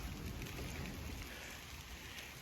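Rain beginning to fall outdoors over a garden raised bed, a steady soft patter spread evenly across the whole stretch, with no voices or other sounds.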